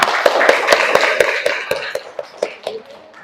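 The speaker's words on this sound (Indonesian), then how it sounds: "Nah, tepuk tangan dulu." A small audience of teachers claps in a steady, evenly spaced rhythm after a group presentation, sharp close hand claps that gradually soften and thin out toward the end.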